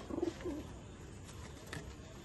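Pigeons coo softly in a loft while their owner prepares them for a racing tournament, two short low coos near the start followed by faint background noise.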